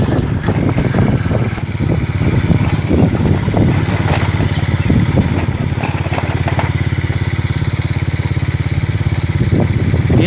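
A Honda Karisma motorcycle engine, prone to stalling, revved hard at full throttle, giving a loud, steady, buzzing drone that holds throughout with a few irregular sputters early on.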